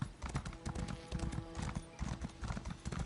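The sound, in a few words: horse hooves clip-clopping in the video game Elder Scrolls Online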